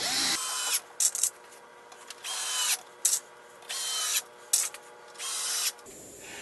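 A cordless power drill driving screws into a wooden outdoor potting bench, a close, loud whirring motor in repeated bursts that rise and drop with short gaps and clicks between them.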